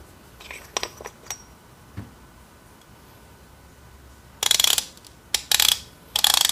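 A Millwright hand coffee grinder's burr adjustment gives a few light, separate clicks, then louder quick bursts of ratcheting clicks close up.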